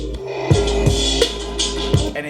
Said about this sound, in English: was that Darth Vader breathing?